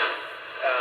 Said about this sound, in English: so you can hear all the static.